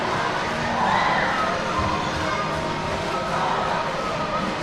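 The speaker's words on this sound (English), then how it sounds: "Suburban's crowd has had a fire lit under them." Suburban's home crowd roars during a timeout at a boys basketball semifinal against Crosspointe, a dense, sustained wash of cheering and shouting in a gym with an announcer talking over it.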